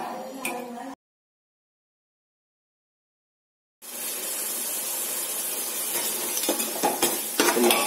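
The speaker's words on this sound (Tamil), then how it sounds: "மசாலா நல்லா வந்து குக் ஆகட்டும்." Masala stirred and sizzling in a pan while it cooks, a short clatter followed by a pause and then a steady, close hiss of frying with scraping stirs.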